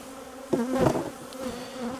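Honey bees buzzing from an opened hive at night during queen grafting, a close, steady hum that swells briefly in a louder burst.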